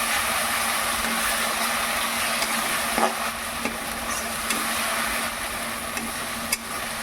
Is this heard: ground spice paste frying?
yes